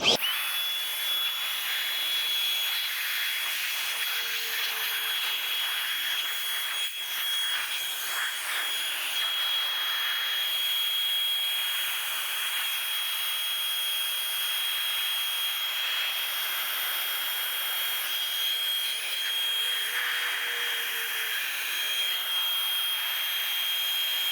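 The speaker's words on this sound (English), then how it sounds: "So now we got our little dryer." A small air dryer blows water off a car wheel during a hoseless wheel and tyre clean. A steady, loud, high-pitched jet-like whoosh with a thin whine runs unbroken throughout, shifting slightly as the airflow moves.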